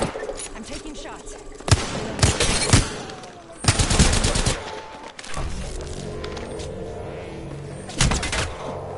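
Video game gunfire erupts in several loud bursts of rapid automatic shots and heavy thuds, close and punchy, separated by short pauses, with a voice speaking quietly under the shooting.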